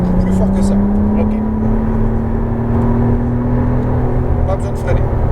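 A McLaren Artura's engine pulls on a race track, a loud rising drone climbing steadily in pitch under an instructor's voice talking over it.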